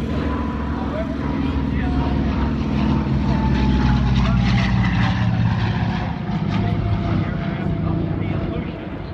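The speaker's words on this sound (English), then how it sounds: "the Harpoon, the twin-engine airplane coming in from our right" A twin-engine Harpoon WWII airplane flies past at the EAA AirVenture Oshkosh 2015 airshow, its propeller engines giving a loud, steady roar that swells and fades slightly over the pass while a voice talks over it.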